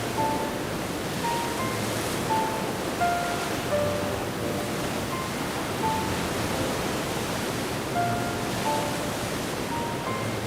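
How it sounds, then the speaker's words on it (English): Steady rushing of many waterfalls flowing down through a damp forest, a broad continuous wash of water noise with faint, scattered bird calls above it. "Myriad waterfalls rejuvenate every inch of the forest, as they steadily flow downward."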